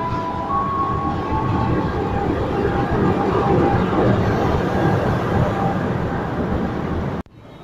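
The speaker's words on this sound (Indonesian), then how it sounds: "kereta istimewanya melintas langsung jalur 4 stasiun Jatinegara" A special train runs straight through track 4 at Jatinegara station, a loud, close, continuous rumble and rattle of rail cars that cuts off abruptly near the end.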